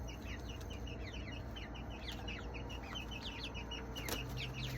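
Chickens cluck and chirp repeatedly, a busy flock of soft, overlapping calls over a constant low hum, fairly faint and without speech.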